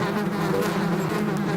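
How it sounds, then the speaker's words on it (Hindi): A swarm of bees drones in a dense, steady buzz that stays close and loud throughout the short stretch, with no voices. "इतनी सारी मधुमक्खियां मेरे पीछे।"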